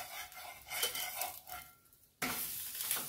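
Thalipeeth, a flatbread of sorghum, rice and gram flour, roasting in a little oil on a pan with a steady soft sizzle, a few scraping stirs, and a brief hush before the sizzle returns louder.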